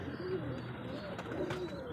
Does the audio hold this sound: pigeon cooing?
yes